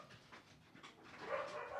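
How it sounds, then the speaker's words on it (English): Dogs in a nearby room of a house, heard faintly as soft panting, whimpers and a few muffled barks, distant and quiet under a low room background. "Oh, my sister-in-law is probably over with her dogs."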